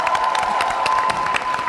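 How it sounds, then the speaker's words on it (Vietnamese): A studio audience at a Vietnamese comedy show claps and cheers for comedian Hoài Linh and his troupe, a loud, close, dense burst of applause with a few crowd shouts. "Một tràng vỗ tay thật to cho nghệ sĩ Hoài Linh cùng với đoàn Thành Tài."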